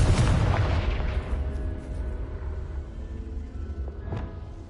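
The Confringo spell explodes in the video game Hogwarts Legacy with a loud, booming blast that decays into a long rumbling tail, followed later by a fainter second thud.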